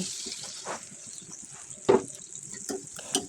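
Water splashes into a pan of fish and potato curry on the stove, a soft continuous sizzle and slosh with a few brief louder clinks, close by and without speech.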